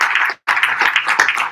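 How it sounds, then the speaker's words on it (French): Steady, dense applause from a lecture audience, a crowd clapping continuously with a brief gap before resuming loud and sustained. "C'est moi qui vous applaudis."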